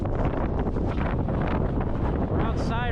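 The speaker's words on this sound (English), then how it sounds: "It's super windy." Strong wind roars across the microphone by the Black Sand Beach in Vik, Iceland, a loud continuous buffeting that stays heavy throughout, with a brief higher whistling gust near the end.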